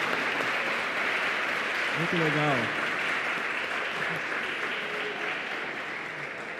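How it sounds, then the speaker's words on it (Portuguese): An audience applauds for Dr. Gustavo Assi at an evening church gathering, a steady hiss of clapping throughout, while a voice briefly speaks over it. "Peço a vocês uma salva de palmas aí para o Gustavo"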